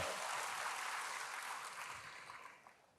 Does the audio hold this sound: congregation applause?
yes